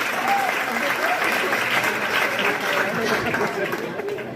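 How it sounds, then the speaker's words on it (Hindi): Sustained applause from an audience at a women's Mi Lifestyle business seminar, dense and steady throughout, with some voices and chatter mixed in and fading slightly toward the end. "बजाओ उनके लिए ताली, ताली बजाओ"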